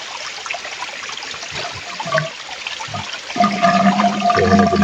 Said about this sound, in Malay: Masuk air.